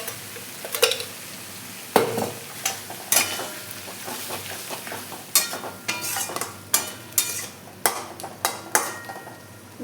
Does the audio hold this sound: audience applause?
no